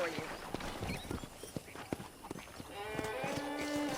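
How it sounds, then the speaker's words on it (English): Horse hooves clip-clopping on a ranch in the video game Red Dead Redemption, a series of irregular distinct hoof thuds alongside speaking voices and soft ambient game sound. "I picked out a fine horse for you."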